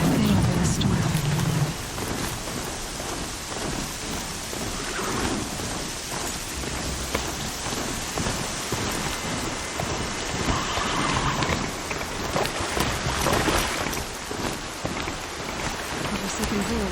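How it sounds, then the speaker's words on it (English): Heavy thunderstorm rain from Horizon Zero Dawn, a constant loud downpour with low rumbling thunder swelling in places, a brief burst of other sound at the very start. "Not gonna hear a thing over the storm."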